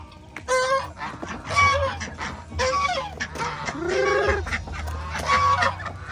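Ducks on a farm, kept alongside Peking ducks, honking and quacking repeatedly in overlapping calls, fairly close and moderately loud, with no talk.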